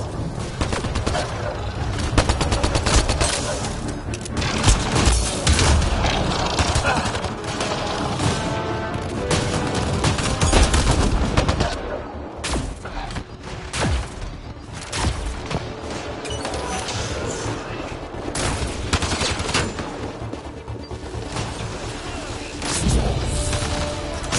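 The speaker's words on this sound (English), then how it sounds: "Just keep firing, we can do this!" Sustained gunfire from a sci-fi firefight in Mass Effect: Andromeda, dense bursts and booming shots running nearly nonstop and loud, with shouted voices mixed in over the fighting.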